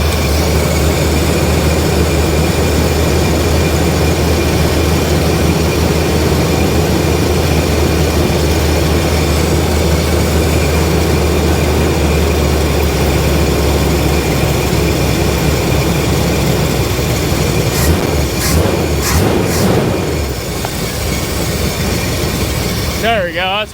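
A truck engine runs at a raised high idle with a steady, loud, low droning rumble that holds for the whole stretch, with a few brief clanks near the end.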